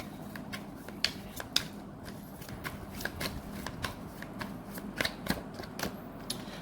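Tarot deck shuffled by hand at close range, with repeated crisp card slaps and riffles in an irregular rhythm over a soft room hiss; nobody speaks.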